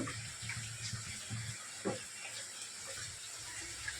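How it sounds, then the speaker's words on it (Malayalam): A kitchen tap runs as water is drawn for tea, a faint, steady trickle heard alone with a couple of soft knocks. "ചായക്ക് വെള്ളം വെച്ചേക്കുക"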